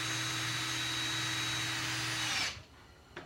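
A power drill drives screws into a wooden bar stool, a steady close whirring drone that holds for a couple of seconds and then cuts off, leaving quiet.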